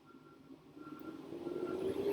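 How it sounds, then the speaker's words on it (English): A garbage truck's reversing beeps sound faint and distant as a steady, repeating tone over quiet background rumble, growing slightly louder toward the end. "Oh, there's the garbage truck."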